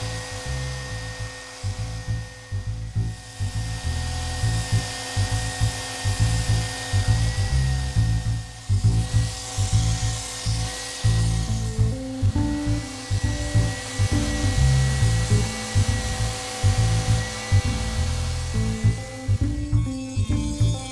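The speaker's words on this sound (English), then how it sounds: "Now I use my belt sander to sand the outside." Belt sander working the outside surface of a wooden scroll saw bowl, a steady loud motor whine with rhythmic pulsing as the piece is pressed and shifted against the belt, running continuously without talk.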